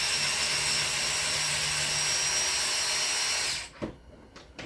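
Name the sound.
DeWalt power tool running on diesel engine work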